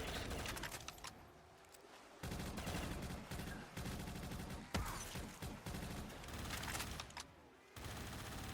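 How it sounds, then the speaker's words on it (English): Rapid bursts of upgraded Pack-a-Punch weapon fire in Call of Duty Zombies crackle steadily and quietly throughout, with short gaps between volleys. "Thankfully, the Pack-a-Punch gun kills him pretty fast."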